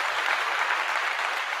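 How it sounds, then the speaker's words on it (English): Crowd applause played as a sound effect on a live stream, a steady wash of clapping that stays loud and even from start to finish with no voices over it. "And here's some crowd applause, my friend."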